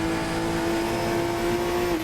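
An F2 2024 race car in a racing video game holds a steady, high-pitched engine whine at speed, loud and continuous throughout with no talking.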